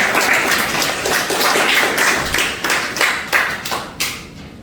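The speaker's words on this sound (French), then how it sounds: "Bonne réponse, applaudissez." Steady applause from a crowd at a quiz game, dense clapping that swells and then thins out toward the end, with a few separate claps standing out.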